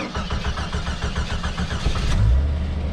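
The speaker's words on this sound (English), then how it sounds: "We'll start it up and let you guys hear it. I like these old Cherokees." A 1989 Jeep Cherokee XJ engine cranks in a steady, rapid rhythm of starter pulses for about two seconds, then catches and settles into a louder, rougher running rumble.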